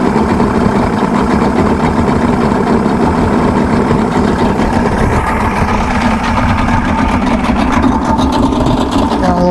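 Old Mercury 150hp Blackmax XR6 outboard motor running at a steady idle, a continuous close rumble with some rattling texture and no pauses.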